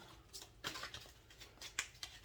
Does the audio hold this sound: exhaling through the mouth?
no